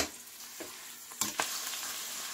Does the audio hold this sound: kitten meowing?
no